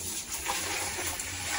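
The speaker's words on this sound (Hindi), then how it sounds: "तो गाइस हम लोग ऐसे भरते हैं बोतल" Water gurgles and rushes into a drinking bottle pushed down into a water drum, a steady close, soft splashing flow lasting the whole moment without any voices.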